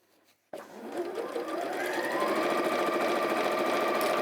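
A sewing machine starts with a sharp click and then runs steadily along a seam, its fast mechanical whir close and even for several seconds.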